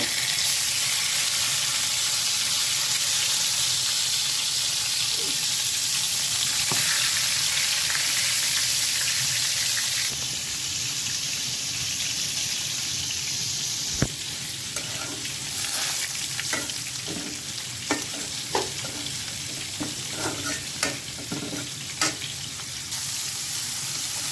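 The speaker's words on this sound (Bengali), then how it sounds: "বেগুনটা ভেজে নিচ্ছে আগে পরে মাছটা বাড়ব" Eggplant frying in hot oil gives a steady, loud sizzle with occasional clinks and stirring scrapes in the later stretch, heard alone without voices.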